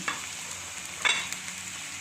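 Spices for spicy Algerian Annaba-style hmiss, including small dried hot red chili, being mixed and stirred, giving scraping strokes over a steady hiss, with one sharper scrape midway; no voices.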